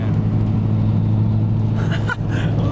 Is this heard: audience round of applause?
no